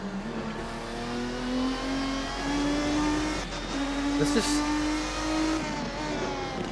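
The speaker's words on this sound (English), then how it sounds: "This is a GT1 car, you know?" A GT1 race car in the driving game Assetto Corsa revs its engine in a rising and falling whine, steady and prominent, while someone talks over it.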